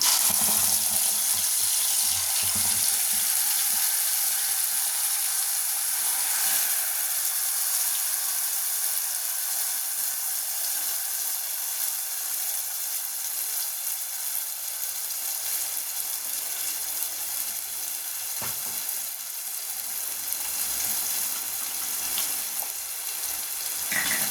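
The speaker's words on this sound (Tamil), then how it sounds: "இது நல்லா பச்சை வாசம் போகிற மாதிரி இந்த மாதிரி நல்லா வதக்கி விடுங்க." Curry leaves and ground masala sautéing in a pan for an egg curry, giving a steady, soft hiss and sizzle that carries on evenly throughout with no talking.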